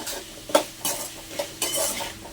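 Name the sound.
stirring drumstick curry with turmeric in a pan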